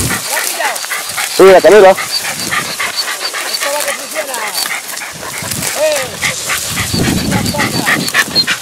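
Podenco Andaluz hunting dogs nearby give sharp yips and barks, with loud panting and snuffling between, while a person calls out and talks over them outdoors.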